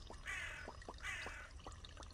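Crow cawing in the video game Pumpkin Panic, two hoarse repeated calls standing out over a steady game background with faint tapping clicks.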